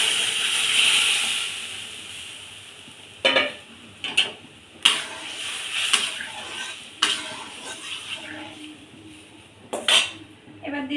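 Lentils are added to a hot tempering of chillies and mustard seeds in oil for starfruit dal, then stirred. A soft sizzle runs underneath and a spoon scrapes and knocks against the pot at irregular moments.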